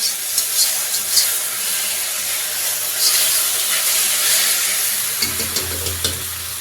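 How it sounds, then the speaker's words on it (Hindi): Tomato, chili and garlic fry in a pan at home, giving a steady close sizzle and hiss with occasional stirring scrapes and a deeper bubbling surge near the end. "इसको अच्छे से फ्राई कर लूँ ना फिर डालूँगी"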